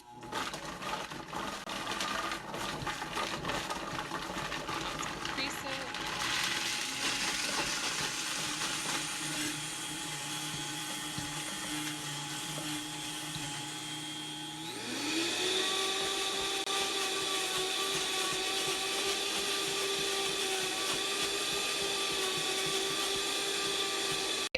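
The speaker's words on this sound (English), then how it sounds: "back on the Vitamix, I'm gonna make sure this top is on, and I'm gonna start it off on low" A Vitamix blender runs steadily on low speed, blending quinoa dosa batter, as a loud continuous motor whine that shifts pitch and grows brighter midway, with no talk over it.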